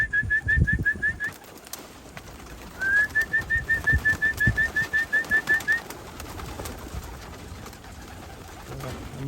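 Racing pigeons at their loft, with a rapid train of short repeated high chirping notes in two bursts and some soft fluttering and rustling nearby.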